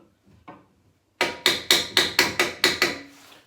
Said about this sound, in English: just knock that with hammer